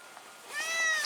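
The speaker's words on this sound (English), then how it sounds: "There's your cat sighting for the video." A cat gives one clear, drawn-out meow, fairly close and rising in pitch, with quiet background and no talking.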